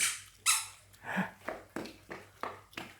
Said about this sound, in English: Squeaky, squeaky, squeaky. Show me your shoes.